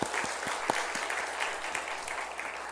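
Congregation at a Sunday worship service giving a round of applause, a soft, distant patter of many hands with a few sharper individual claps standing out, continuous throughout.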